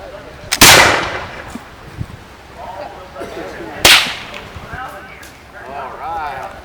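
Two sharp, loud blasts set off in a staged battle scene, the first about half a second in and the second near four seconds, each decaying into rumble, with people talking in between and afterward.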